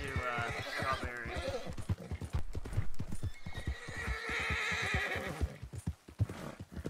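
Rhythmic hoofbeats clopping at a steady pace, with a horse whinnying and snorting over them, close by and fairly loud, in the video game Red Dead Redemption 2.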